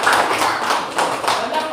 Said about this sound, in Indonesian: Tepuk tangan dulu untuk Zidan sekali.